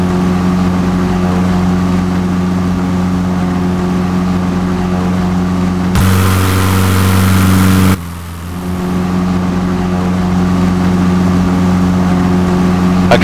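A light aircraft engine drones steadily and loudly while flying a quick circuit after touchdown on a crosswind approach, with a brief surge in power midway before settling back to an even hum.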